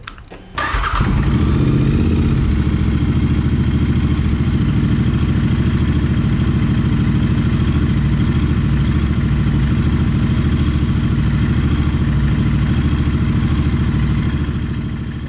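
A Royal Enfield motorcycle engine cranks and catches within the first second, then idles loud and steady with a thumping, even rhythm for the rest of the clip, alone without talk.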